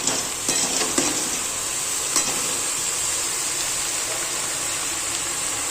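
Dried shrimp (sukat), rinsed and then dry-roasted in a pan, give off a steady close hiss and sizzle with occasional scraping stirs and no voices.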